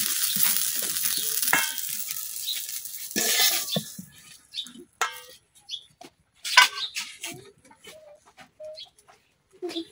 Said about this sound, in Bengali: আমার পেঁয়াজ রসুন মরিচ সব কিন্তু ভাজা হয়ে গেছে